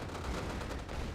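A cannon fires in a Red Alert 2 match, producing a dull, muffled boom with a few low thuds among dense game noise.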